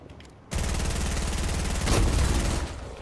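Sustained automatic gunfire in a shooting video game, a loud, dense, continuous burst that starts abruptly and keeps rattling for about two and a half seconds.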